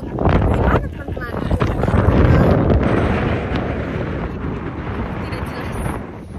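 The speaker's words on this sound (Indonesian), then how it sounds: "Angin kencang sekali." Strong, gusty wind buffets the microphone with loud, continuous rumbling roar throughout, outdoors at a scenic spot.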